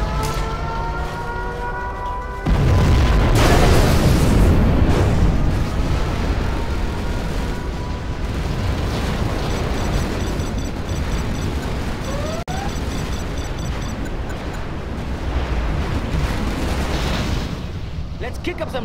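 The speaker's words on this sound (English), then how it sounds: "We have launched our nuclear missile." A nuclear missile detonates in Command & Conquer Generals Zero Hour, a sudden loud broadband blast that rolls into a long rumbling roar with whistling and siren-like tones.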